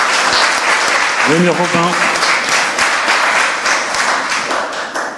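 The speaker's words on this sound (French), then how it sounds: "On applaudit bien fort." An audience applauds steadily at a health innovation award ceremony for medical interns. The dense, sustained clapping fills the whole stretch while someone speaks briefly over it.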